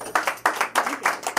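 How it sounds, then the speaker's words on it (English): Scattered clapping from a small audience at a talk on emotional healing, a few close, loud individual claps in an uneven rhythm rather than a full ovation. "Give her a big round of applause."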